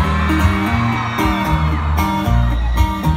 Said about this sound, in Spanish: retumbe ese grito, mi compa Regulo.